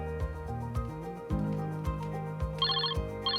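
A telephone ringing in a repeating electronic pattern, the tone pulsing steadily with higher trilling bursts toward the end, fairly close and clear.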